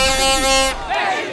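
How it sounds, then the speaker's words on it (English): A crowd of Mexico fans at a World Cup watch party in Pioneer Square, Seattle, roaring and cheering loudly with a blaring horn over the noise, close and energetic. "that is the Mexico Watch Party in Pioneer Square, the crowd is wound up with energy and passion"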